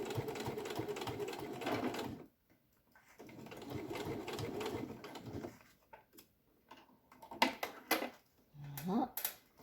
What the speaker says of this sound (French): On essaye de coudre au plus près pour maintenir justement le biais de ce côté-là.